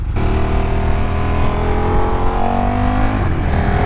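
A 2018 KTM Super Duke GT motorcycle engine revs and accelerates hard on a dual carriageway, its pitch climbing steadily under loud continuous road and wind roar, with no talking.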